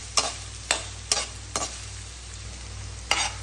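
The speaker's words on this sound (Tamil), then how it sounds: "இந்த வெங்காயம் வதங்கிடட்டும்." Onions being sautéed in a pan while cooking elephant foot yam fry, with a soft low sizzle and a series of sharp clanks from a spatula stirring at irregular intervals.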